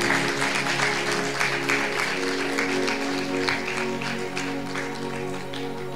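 A congregation at a Punjabi sermon claps loudly and steadily, many hands together, over a sustained musical drone that fades slightly toward the end.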